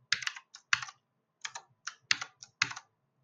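Fast bursts of keystrokes clatter on a computer keyboard, close and clear, in short runs separated by brief pauses with no talking.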